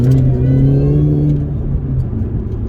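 The engine of a Mini Cooper S GTT220 pulls smoothly in fourth gear, a loud, steady droning growl heard from inside the car that eases slightly partway through.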